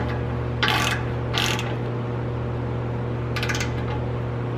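A ratchet clicks in quick bursts while an exhaust tip is tightened on a Ram Rebel pickup, the sharp metallic runs close and loud over a steady low hum, with no talking.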